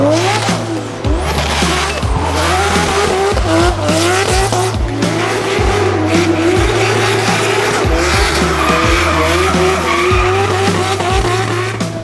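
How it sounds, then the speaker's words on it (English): A Nissan Sylvia drift car with an RB engine bounces hard off its rev limiter in a rapid stuttering rhythm while its tires squeal continuously at a D1NZ drifting round at Mt Smart Stadium. The sound is loud and close throughout. "his RB-powered Sylvia bringing plenty of limiter."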